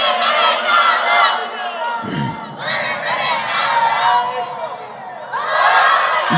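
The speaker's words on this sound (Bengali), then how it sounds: "তাকবীর দেন ভিতর থেকে।" A large crowd at a Bangla waz gathering in Khulna chants takbir in loud, repeated surging bursts of massed voices, rising and falling in waves with short pauses between calls.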